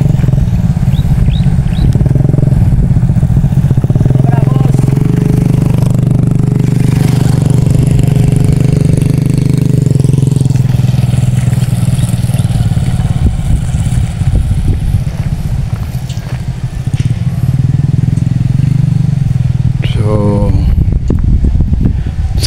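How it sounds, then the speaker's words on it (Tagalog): Motorcycle engines run near a tobacco farm in Gitagum, Misamis Oriental, a steady loud drone throughout with a passing rise late on, while someone talks over it. "May mga motor."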